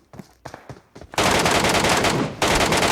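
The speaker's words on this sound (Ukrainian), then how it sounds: "Хтось стріляє постійно." Gunfire in the mobile shooter PUBG Metro Royale: a few separate loud shots, then a sustained, dense burst of rapid automatic fire that stays close and loud, briefly dips, and resumes.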